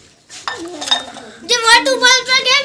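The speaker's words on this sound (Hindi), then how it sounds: "बर्तन धोने लगी है" Dishes, pots and utensils being washed in an unfinished home kitchen, with light clinks and clatter under a voice talking up close through the short stretch.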